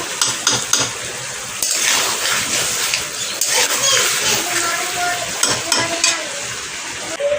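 Water goes into a sizzling fish-bone chorchori curry in a home kitchen pan, producing loud hissing and bubbling with stirring scrapes, while voices talk intermittently.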